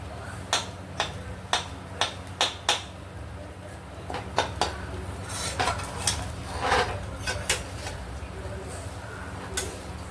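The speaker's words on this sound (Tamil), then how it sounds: "நல்லா கலந்து விட்டுருங்கோ சாதத்தை கட்டி இல்லாமல்" A spoon scrapes and taps against a pot while gooseberry rice is stirred and mixed, with a run of sharp evenly spaced clinks followed by softer irregular knocks and scraping, plus a voice talking at times.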